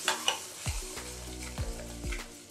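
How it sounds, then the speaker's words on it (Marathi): Eggs fry in a pan for egg bhurji with a steady sizzle, while a spoon stirs them in a few distinct scraping strokes spaced about half a second apart. "हे आता 4 अंडे मी याच्यात टाकून घेते। आता हे चांगलं असं मिक्स करून घेते मी।"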